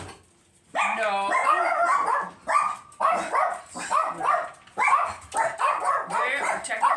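Several dogs bark and yip in quick, excited bursts, close by, with a little whimpering mixed in between barks.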